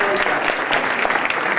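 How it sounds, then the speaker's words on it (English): A short burst of steady audience applause at an education panel discussion, dense clapping throughout. "I think Mike deserves a round of applause for that."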